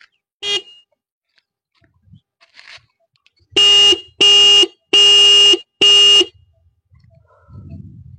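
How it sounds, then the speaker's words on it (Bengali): The horn of a 2025 Honda Hornet 2.0 motorcycle sounds once briefly, then four loud, close honks in quick succession with short gaps between them. "এবার তোমাদের হর্নের আওয়াজটা একবার শুনিয়ে দিচ্ছি"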